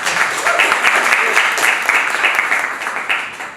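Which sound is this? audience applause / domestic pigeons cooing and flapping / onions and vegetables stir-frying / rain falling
audience applause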